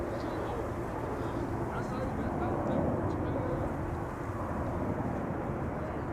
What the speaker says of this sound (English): Here we have a 777 from KLM flight 591, 777-300 going to Johannesburg in South Africa.